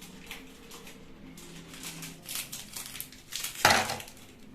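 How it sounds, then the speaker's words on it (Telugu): Soft crumbly rustling and light clinking as biscuits tumble into a bowl at home, faint and close, ending in a sharper clatter near the end. "ఇప్పుడు ఈ బిస్కెట్స్ ఈ బౌల్లోకి వేసుకుందాం"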